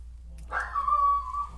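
A single short dog yip or whine, faint and somewhat distant, rising briefly then trailing off.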